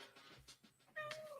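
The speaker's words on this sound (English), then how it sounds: "Got a cat scratching my chair, trying to come up here." A cat meows beside a chair, a short, faint tonal call rising out of soft scratching and shuffling noises in a quiet room.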